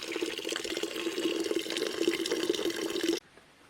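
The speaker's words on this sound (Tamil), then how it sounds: "இப்போ நம்ம சூப்புக்கு தேவையான தண்ணியை சேர்த்துக்கலாம்." Water pours steadily into a pot for crab soup being cooked outdoors in a jungle setting, a close, continuous splashing stream that stops abruptly near the end.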